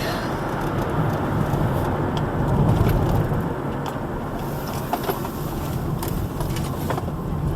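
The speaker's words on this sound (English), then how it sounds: "So as I continue my drive" Steady road noise from inside a car driving on an evening trip, a continuous broadband rumble and tire hiss with faint intermittent ticks, no talking heard.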